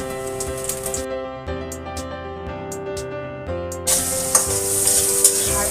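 Capsicum and onions fry in a pan with a steady sizzle and occasional stirring, while musical tones ring throughout and the sizzle swells louder toward the end.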